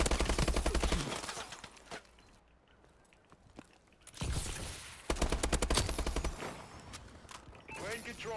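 Rapid automatic gunfire from a Call of Duty Advanced Warfare match, likely a BAL-27 rifle, crackles in dense bursts at the start, around four to five seconds and again near the end, with quieter footsteps and game noise between the volleys.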